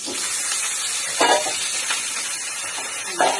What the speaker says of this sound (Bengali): সবকটা ফুলকপি আমি ভেজে নিচ্ছি।